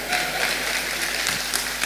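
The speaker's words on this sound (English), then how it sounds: "Or clap for the Lord." Audience applause at a general assembly, a dense, steady patter of many hands clapping with crowd noise mixed in and a faint low hum running underneath.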